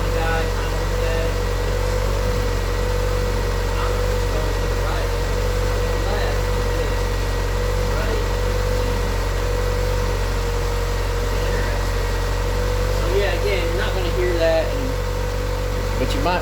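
A 1988 Honda Accord idles steadily with a continuous mid-pitched engine hum and a faint whine from the power steering, holding constant and close throughout with no talking.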